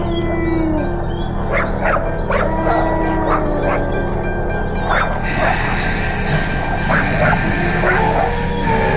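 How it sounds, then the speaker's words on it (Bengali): A dog yelps and whimpers in a cartoon ghost story, a run of sharp, high, repeated cries over a dense, loud background score, growing more frantic and continuous toward the end. "কুকুরটা মরণ চিৎকার শুরু করলো।"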